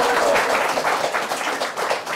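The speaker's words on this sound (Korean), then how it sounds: "박수 부탁드립니다." A studio audience claps in welcome for a guest on a live talk broadcast, a thick, continuous burst of many hands at close range with no talking over it.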